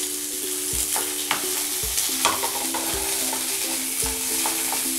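Onion, garlic and chili sauté in a hot pan with a steady close sizzle, while a utensil stirs with regular scrapes and light clinks about once a second. No voices.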